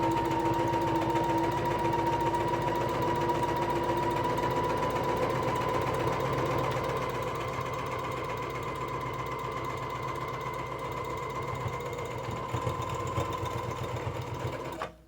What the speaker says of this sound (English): I do a reverse stitch on either end just to secure my row of stitches.